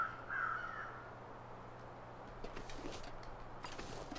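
Crows caw in the survival game The Long Dark, a short harsh call early on over a low steady hum, followed by faint rustling and scattered clicks.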